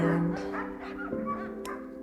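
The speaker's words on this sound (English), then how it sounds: "So we have 25 sled dogs" Sled dogs at a Wisconsin mushing kennel yip and bark in short overlapping bursts, moderately close, with whimpering under a steady background hum.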